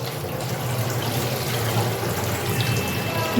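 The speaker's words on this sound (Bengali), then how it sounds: "আমার চাল ধোয়া হয়ে গেল।" Rice being washed in water in a home kitchen, a steady low swishing and trickling of water running throughout, close and continuous with no talking.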